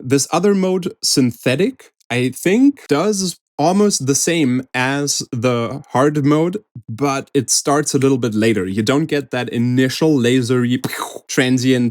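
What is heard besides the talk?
No everyday noise stands out behind the speech.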